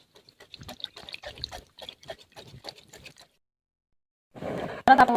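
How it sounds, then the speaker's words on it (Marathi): A voice talks first, then after a short silence a bowl of water is tipped into a cooking pot of semolina vada mixture, a brief, close, gushing pour. "मी आता त्याच्यात परत अजून एक वाटी पाणी ॲड करते"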